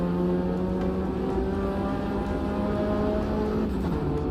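A Puma race car engine in a racing video game holds a loud, steady droning hum with a slight pitch drift toward the end, continuous throughout and with no talking.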